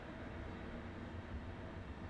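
A high-speed train runs through a tunnel in Trainz Simulator 3 on the Fulda–Würzburg route, giving a steady, broad, faint roar with no breaks.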